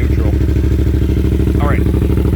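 Yamaha MT-07 motorcycle fitted with an Akrapovic exhaust, its engine running with a steady, close, throbbing low rumble throughout while a person talks over it.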